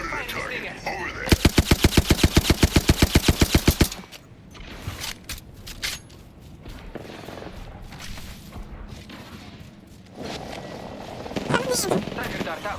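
Gunfire in the Apex Legends video game: a long, rapid automatic burst of evenly spaced loud shots, then scattered shots and game effects while a person talks.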